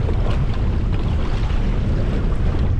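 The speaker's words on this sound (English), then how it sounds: "Oh man, it's just waves coming at me." Rough river water slaps and rushes against a solo canoe on a wild river, loud and continuous, with heavy wind buffeting the microphone throughout.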